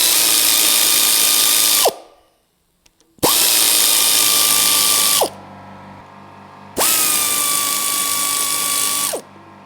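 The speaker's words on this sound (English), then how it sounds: "we're going to remove the crankcase so we can actually see what happens with the crankshaft. That's a whole bunch of bolts I have to undo" A power tool whirs loudly in three long bursts, removing bolts from the crankcase of an old rusty engine being stripped. Each burst runs about two seconds, separated by short silences, with no talk.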